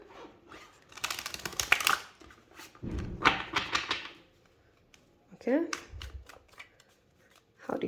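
A deck of cards is shuffled in a tarot-style reading, producing two loud riffling bursts of papery flutter, close up, followed by a brief voice speaking.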